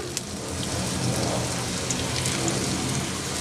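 Leftover dal snacks shallow frying in oil, a dense, steady crackling sizzle that runs unbroken and fairly loud throughout, with no voices over it.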